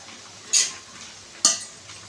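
A spatula stirs spinach (arai keerai) cooking in ghee in a pan, two short scraping strokes over a quiet, low simmer.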